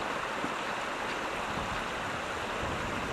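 A small, shallow brook only a few inches deep flows steadily, making a constant close rushing, babbling hiss with no pauses and no voices.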